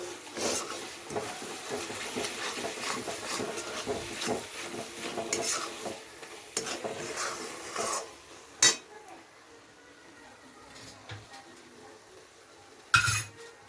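A spoon scrapes and stirs a spice paste with chilli powder in a pan with a soft sizzle, then a couple of sharp metallic clinks.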